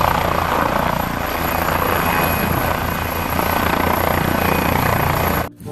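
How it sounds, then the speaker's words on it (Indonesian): A toy helicopter's rotor whirs continuously and loudly, a steady buzzing drone that stops abruptly at the end. "Wah, lihat teman-teman, ada helikopter."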